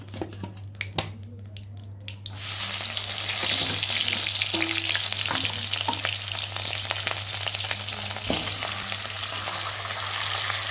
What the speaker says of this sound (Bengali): তো মাথা আর লেজাটাকে এখন আমি ভেজে নেব